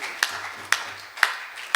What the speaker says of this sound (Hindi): एक बार जोरदार तालियां, वाह।